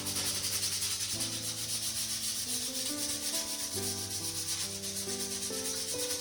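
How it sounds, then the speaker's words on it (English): Sandpaper, fairly aggressive grit, rubbing grime off an old woodworking plane's blade after a spray of WD-40, a steady continuous scratchy hiss with rhythmic back-and-forth strokes, close and alone without talk. "I'm gonna just sand off all this grime"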